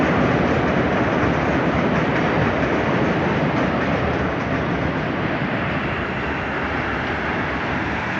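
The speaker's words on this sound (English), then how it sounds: "The train." A train on Chicago's elevated line near North Sheffield Avenue rumbles past in a steady, loud, broadband roar that fills the whole stretch without a break.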